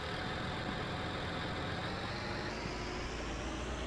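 A tractor engine idles in Farming Simulator 19, a steady, even rumble that holds at a constant low volume with no other sounds.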